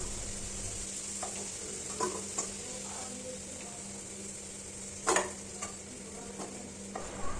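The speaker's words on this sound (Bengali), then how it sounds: "আলুটা ভাজা হলে সেটা আমরা একটা পাত্রে তুলে নেব" Potatoes fry in hot oil with a constant close sizzle, and a utensil stirs and taps the pan every so often, giving a few sharper clinks over the steady hiss.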